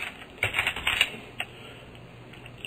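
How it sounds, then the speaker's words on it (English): Keys on a computer keyboard clack in a quick burst of taps, followed by a few scattered keystrokes over a faint background hum. "now let's start typing the variable name again."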